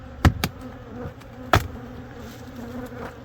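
Honey bees buzz steadily around hive frames during an inspection, a close continuous drone broken by a few sharp knocks and clatters, with no talking.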